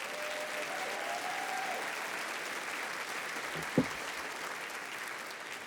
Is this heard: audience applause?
yes